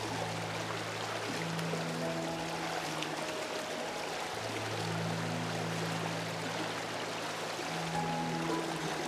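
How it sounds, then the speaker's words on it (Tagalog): Strong, fast-flowing river water rushes steadily and loudly across the whole stretch, a constant broadband wash with low tonal hums beneath, at a shallow river crossing. "Malakas yung pressure ng tubig."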